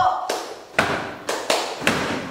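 A short voiced cue leads into five loud, echoing group hand claps from a classroom of students, spaced in an uneven chant-like rhythm.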